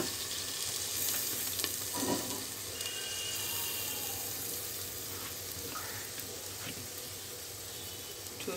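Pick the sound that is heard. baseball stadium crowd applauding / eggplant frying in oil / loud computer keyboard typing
eggplant frying in oil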